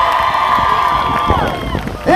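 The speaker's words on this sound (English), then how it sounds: "give Ilyas a round of applause." A street protest crowd in Manchester cheers loudly for a young boy, with sustained shouting, children's voices and some clapping rising and falling in a dense outdoor roar.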